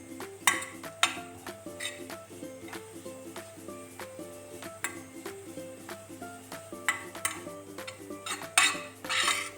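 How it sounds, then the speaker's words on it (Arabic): A spoon stirs honey, butter and coconut in a metal pan, giving repeated scraping and clinking strokes at a steady rhythm over a quiet tonal background. "اقلب العسل مع الزبده مع جوز الهند"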